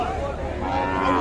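Young calves at a rural cattle market in Dinajpur, Bangladesh, lowing in sustained, overlapping moos amid the busy murmur of the crowd.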